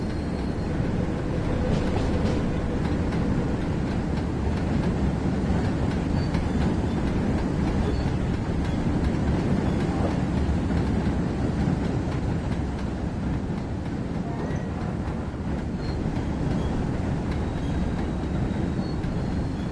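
A train in Train Sim World 6 runs along West Coast Main Line rails with a steady, loud rumble and rolling rail noise that holds for the whole stretch, with no talking.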